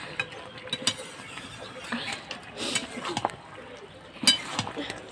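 A spoon scrapes and clinks against a pan while soyabean curry is stirred, giving irregular metallic taps and scrapes with a sharper knock near the end over a soft background.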